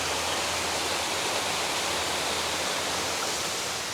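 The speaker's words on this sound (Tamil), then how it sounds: "இங்கிட்டும் ஒரு சிறிய அளவிலான வாட்டர் ஃபால்ஸ்" Small waterfall at a garden café, a steady broadband rush of falling water, constant and even with no pauses or voices.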